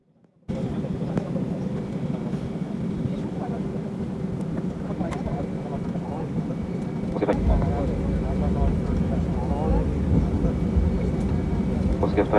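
Low, steady rumble of an airliner cabin before takeoff on a Saint Petersburg to Namangan flight, a broad drone that swells louder partway through, with a cabin announcement voice heard over it.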